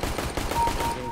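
Gunfire in a military shooter game, a short close burst of rapid shots running continuously with no gaps and no talk.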